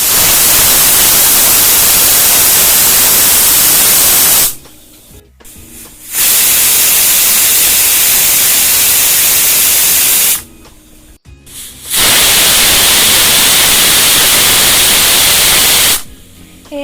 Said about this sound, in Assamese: এয়া মোক কুকাৰে 3-4টা চিটি মাৰিলে